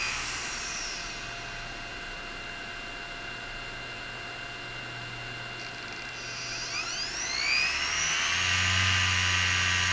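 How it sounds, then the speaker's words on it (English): A 5400 RPM hard drive platter spins inside an LED clock, giving a faint, steady whine and hum that brightens near the end as higher tones sweep upward. "This is a 5400 RPM drive, so it's spinning at about 90 times a second."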